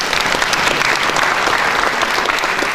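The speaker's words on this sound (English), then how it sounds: "A round of applause for him." Sustained, even applause from a crowd at a student economics debate event, a dense wash of clapping at constant loudness throughout.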